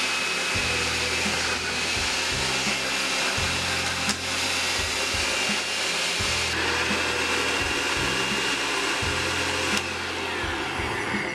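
A countertop blender grinds burger smoothie ingredients with water, a loud, steady motor whir that pulses and shifts in pitch as the load changes, close up with no talk.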